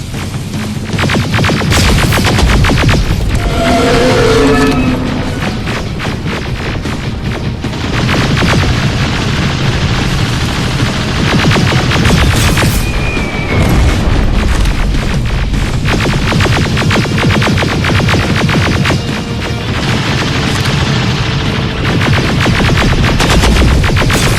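Gunfire and heavy explosions roar through a Terminator Resistance video game battle, a loud, dense, continuous barrage of booms and rattling shots lasting throughout with no pauses.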